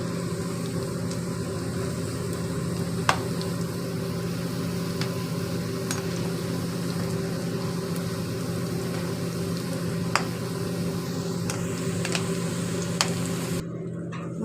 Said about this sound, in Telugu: మామిడికాయ, ములంకాయ ముక్కలు నూనెలో ఫ్రై చేయాలండి